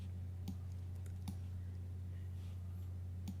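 A few isolated computer keyboard key presses, faint clicks spaced out over a steady low electrical hum, with no talking.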